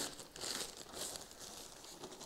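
Thin plastic packaging bag crinkling and rustling close by while a Medion Akoya P2211T 11.6-inch 2-in-1 tablet/notebook is unboxed, a steady busy crackle with no talk.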